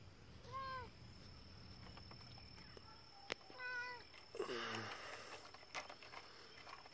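A cat meows outdoors at night as a storm approaches, two or three drawn-out, moderately close calls over a steady chorus of crickets and insects.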